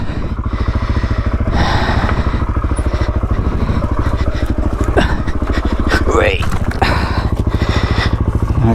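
A Suzuki DRZ400E dirt bike engine chugs at a rough, low idle while greenlaning off-road, its rapid thumping firing pulses steady and close, with voices talking over it and brief clattering knocks.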